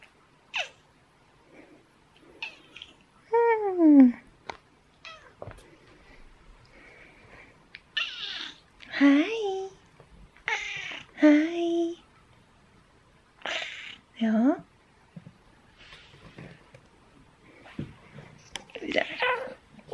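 A pet cat meows several times at home, drawn-out rising and falling calls spaced through the clip, close and clear, with a person speaking softly to it in between.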